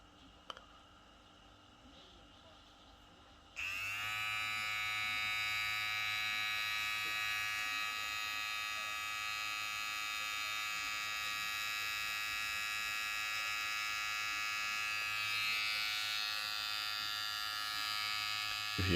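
VGR V-171 electric hair trimmer switching on after a quiet moment, then a steady loud high-pitched motor buzz running continuously close up.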